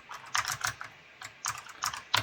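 Several short bursts of key presses on a computer keyboard as a number is typed, crisp clicks in quick clusters separated by brief pauses, close and clear with no talking.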